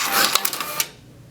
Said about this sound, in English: I've actually sent a second ticket to the printer. So it should print that next one when I pull this one out.